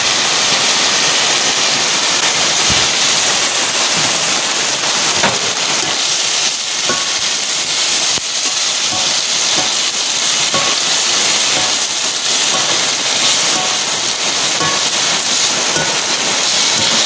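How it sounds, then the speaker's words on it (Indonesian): Heavy tropical rain falls on a rural hut, a dense, steady hiss that stays constant throughout with no voices over it. "Ini cuacanya lagi hujan gede teman-teman"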